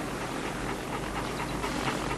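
A dog pants in quick, breathy rhythm, a steady airy huffing that runs the whole time against a noisy background with no talking.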